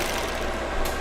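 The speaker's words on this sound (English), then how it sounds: "So once you turn the machine on and you're going to press the machine to go," An overlock sewing machine runs steadily while forming a chain stitch, giving a continuous, even mechanical whir with fast rapid ticking, close and alone.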